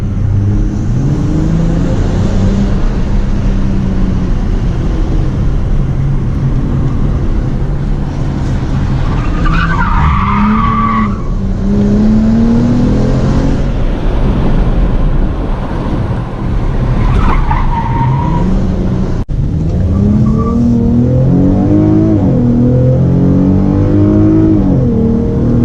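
A 2017 Dodge Challenger fitted with an aFe Momentum GT cold air intake accelerates hard at high speed. A loud, continuous engine roar climbs and drops through gear changes, heard from inside the car with heavy road and wind noise.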